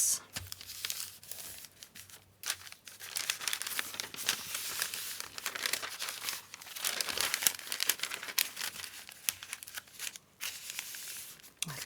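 Thin paper handled and crinkled while assembling a junk journal, with continuous close rustling and crackling in irregular bursts.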